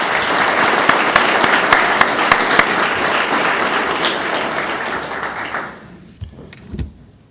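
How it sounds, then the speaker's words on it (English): An audience applauds at a 2014 scholarship awards ceremony, dense sustained clapping from a room of people that runs strongly for several seconds, then thins out and fades to a few scattered claps. "Let's give them a round of applause."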